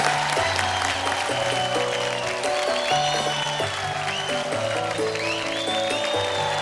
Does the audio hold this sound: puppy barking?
no